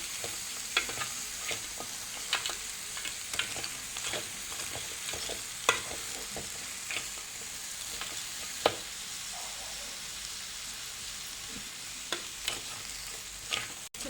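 Crab is stirred with masala in a pan over steady, close frying sizzle, with repeated sharp scrapes and clicks of a spoon against the pan and no talking.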